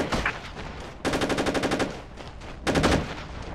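Automatic gunfire in the video game Socom 3 comes in three rapid bursts separated by short pauses, sharp and fairly close against low background noise.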